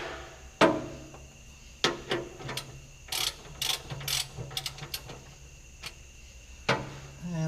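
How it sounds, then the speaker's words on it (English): An extended-handle ratchet works loose a tight oil drain plug on a semi truck, giving scattered sharp clicks and short ratcheting bursts, close and fairly loud, with no talk. "I like to use an extended handle ratchet here because for whatever reason, these oil drains plugs always seem to be tighter"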